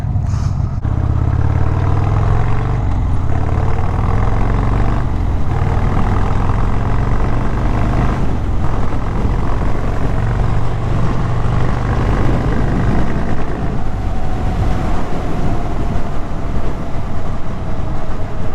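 A loud, steady Harley Sportster Scrambler motorcycle engine drone with a deep rumbling exhaust tone, running continuously and close by with no talking.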